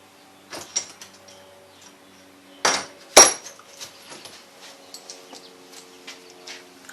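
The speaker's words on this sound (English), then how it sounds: "It's a Phillips head screwdriver." Phillips head screwdriver clicking and scraping against metal while servicing a Tecumseh carburetor, a few sharp isolated clacks and light tool taps, close and quiet, no talking.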